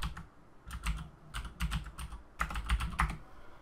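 Computer keyboard keys clatter in irregular bursts of quick taps with short pauses between, close and moderately loud, with no talking.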